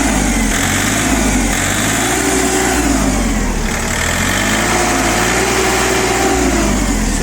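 A small Iseki TU185F mini tractor engine runs loud and steady nearby, a continuous throbbing drone with slight rises and dips in pitch, no speech.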